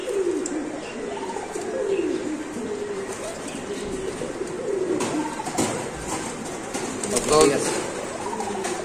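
A pair of Arabian Koka pigeons coo in repeated, rolling low phrases, close and clear, with some chirps and a brief louder burst near the end, and faint voices in the background.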